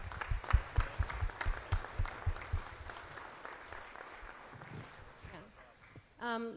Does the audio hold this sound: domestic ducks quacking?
no